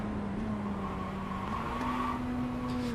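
A Mazda race car engine in iRacing at Mount Panorama, a steady droning whine whose pitch drops and then steps up again as it downshifts, continuous and moderately loud with no talking.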